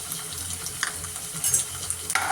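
Ginger garlic paste sautéing with onions in a pan for prawn biryani, heard as a light sizzle with a few short scraping stirs up close and no talking.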